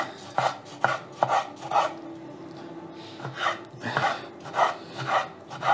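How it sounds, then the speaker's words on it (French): Steady knife strokes on a board cutting tomatoes, a dozen or so soft rasping cuts at a brisk, fairly regular rhythm, close by. "On coupe les tomates."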